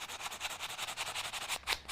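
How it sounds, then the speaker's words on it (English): A sanding block rubs back and forth over dried glue on a Cricut-made sign, giving a steady run of close, rhythmic scratchy strokes with no talking. "come back in here with a sanding block and just"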